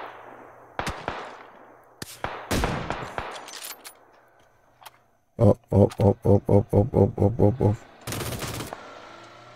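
Gunfire in the battle royale video game PUBG: scattered single shots early on, then a rapid automatic burst of about ten evenly spaced rounds and a final loud blast. A short vocal exclamation comes between them.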